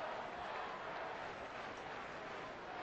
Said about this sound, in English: Big crowd seeing a dandy of a game.